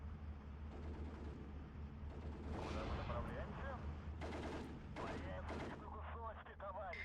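Artillery fire in the war strategy game Steel Division 2, heard as faint, distant rumbling booms and cracks rolling together over a low constant hum, quiet and steady throughout.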